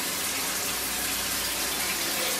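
Shower water spraying steadily into a clawfoot tub, a loud, continuous hiss and splash with no talking.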